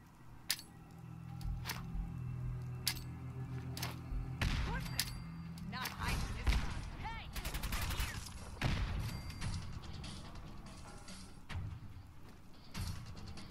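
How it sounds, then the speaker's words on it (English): Gunfire from a sniper rifle in the Fallout 4 video game: sharp, loud cracks fire repeatedly at irregular intervals over a busy rumbling battle background, with brief voices in places. "He's pulled out his sniper rifle."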